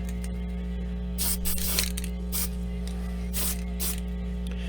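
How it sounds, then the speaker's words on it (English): An aerosol can of matte sealer sprays onto a miniature in several short hissing bursts, close by, over a steady low electrical hum. "Usually when you're matte sealing something, it's best to spray in short bursts."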